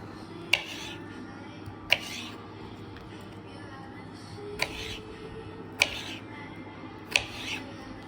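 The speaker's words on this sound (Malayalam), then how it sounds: "അതിനായിട്ട് നമുക്ക് കോവക്ക അരിഞ്ഞെടുക്കാം ആദ്യം." A knife chops ivy gourd on a cutting board in five separate crisp clicks spread across several seconds, with a faint low background hum between them.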